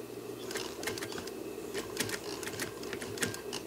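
A sewing machine with a zipper foot back-stitches near the welt of a sofa's upholstery, giving a steady mechanical hum with rapid, irregular clicking and tapping close by.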